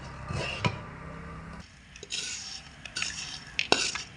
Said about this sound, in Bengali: মোটামুটি 10 মিনিট মতো এইভাবে নাড়াচাড়া করে নেবেন, একদম লো আঁচে রেখে।